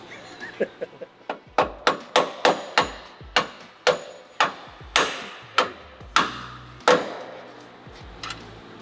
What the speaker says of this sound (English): beating it with a hammer. It's a wooden one.